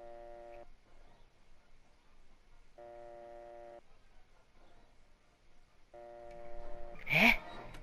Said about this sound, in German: Verwende L, um Nummer zu wählen.